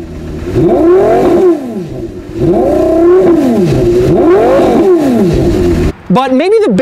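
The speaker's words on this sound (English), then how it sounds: "And boy, does that engine sound good." A Porsche Carrera GT engine revs loud and close, rising and falling in three sweeping blips, then a final quick burst of revs; a voice whoops briefly near the end.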